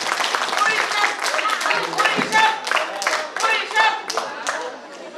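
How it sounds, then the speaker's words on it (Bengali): An audience claps to welcome an honoured guest, the joint director, at a formal event in Matuail. The applause is dense and steady throughout, with scattered individual claps and light crowd murmur underneath. "করতালির মাধ্যমে আমরা স্যারকে স্বাগত"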